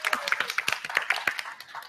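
Scattered hand claps from a small audience welcoming a tech panel guest, a sparse, uneven patter of individual claps rather than a full roar, with a voice faintly present underneath.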